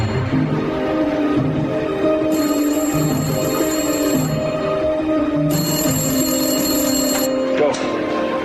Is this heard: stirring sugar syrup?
no